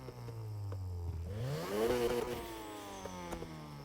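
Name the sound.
tuned car exhaust revving in video game NFS Heat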